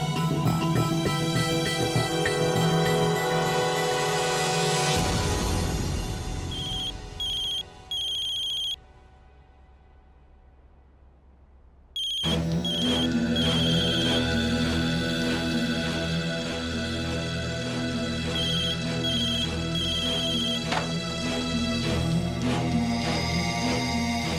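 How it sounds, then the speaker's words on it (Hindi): A mobile phone ringtone plays loudly as a repeating melody, pauses for a few seconds of near silence, then rings again. "प्रेरणा अपना फोन घर पे छोड़ के चली गई"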